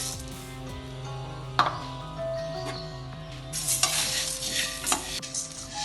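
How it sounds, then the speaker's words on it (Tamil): Coriander seeds dry-roast in a pan, a light rustling scrape with occasional sharp knocks of the stirring spoon, growing busier toward the end, close by and without speech. "அடுத்ததா மல்லி, இதையும் வாசனை வர அளவுக்கு நம்ம வறுத்துக்குவோம்"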